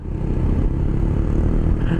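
A Honda ADV160 scooter engine labours uphill with a low, steady drone and a rattling clatter, loud and close throughout.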